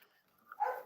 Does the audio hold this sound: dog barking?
yes